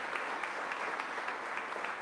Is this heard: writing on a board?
no